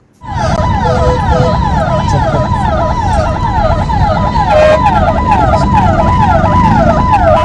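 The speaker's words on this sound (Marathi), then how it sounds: "त्यानंतर मित्रांनो, आपण थोडंसं पुढे आलो लागला आपला ट्रॅफिक मध्ये अटकली ॲम्ब्युलन्स" An ambulance siren stuck in city traffic in Pune wails loud and close in a steady repeating rising-falling pattern, with traffic noise underneath and a voice talking over it.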